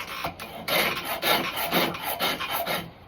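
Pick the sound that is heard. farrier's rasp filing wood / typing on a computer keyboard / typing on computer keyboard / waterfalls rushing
farrier's rasp filing wood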